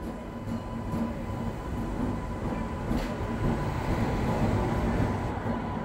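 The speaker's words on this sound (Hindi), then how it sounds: "और वैप 7 भी आ गई।" A WAP-7 electric locomotive train rolls past, a steady continuous rumble with a low hum and faint rhythmic rail clatter, fairly loud and close.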